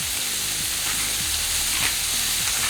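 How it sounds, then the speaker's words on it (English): Steak sautéing in a thin film of butter in a pan, with black pepper and salt, gives a steady close sizzle and frying crackle, with faint stirring scrapes and no voices. "Just enough butter to wet the pan, and then we are going to saute the steak."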